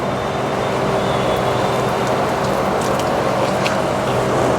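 Water sprayed in fine raindrop-like droplets onto garden plants, a steady, close hiss that runs without a break and stays level throughout.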